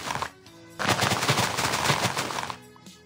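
A loud, dense burst of crunchy rattling from grass being broken in Minecraft, lasting about two seconds, starting and stopping abruptly after a quiet moment.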